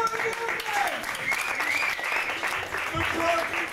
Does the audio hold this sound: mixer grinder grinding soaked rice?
no